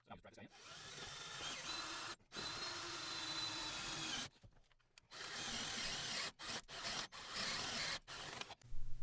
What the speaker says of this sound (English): I'm going to switch to another step drill here